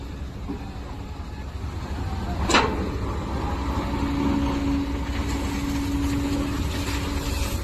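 A loaded excavator's engine runs steadily throughout while a truck is stuck, with a low drone and a sharp clank partway through, later joined by a faint whine.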